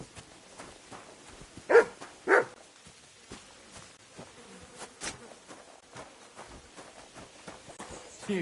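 A dog in the game Kingdom Come: Deliverance 2 gives two quick barks close by, followed by faint buzzing, rustling and scattered small ambient sounds.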